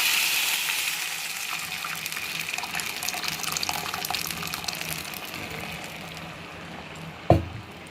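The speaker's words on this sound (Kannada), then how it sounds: "ಈಗ ನಾನು ಕಟ್ಟನ್ನು ಹಾಕ್ತಾಯಿದ್ದೀನಿ." Toor dal stock (kattu) poured into a pot for saaru, a steady, close liquid splash and gush that continues throughout, ending with a single sharp knock near the end.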